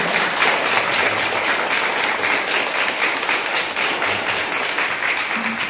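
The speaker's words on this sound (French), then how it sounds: "On applaudit, s'il vous plaît." A studio audience at a café-style music show applauds continuously, a dense even wash of clapping that holds steady for several seconds with no speech over it.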